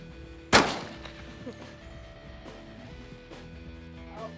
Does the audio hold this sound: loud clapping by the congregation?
no